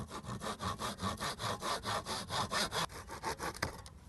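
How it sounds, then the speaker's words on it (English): Small handsaw cutting through a wooden plant stick, a steady run of close, rasping back-and-forth strokes that stops near the end. "Little handsaw, pop the little guy on the edge, and we are just going to cut this guy over here."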